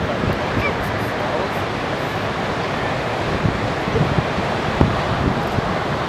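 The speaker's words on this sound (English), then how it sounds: "He's going to hit some waves for sure" Large surf at Ocean Beach, San Francisco, rolls in as a steady broad roar mixed with wind buffeting, with a few louder crashes near the end.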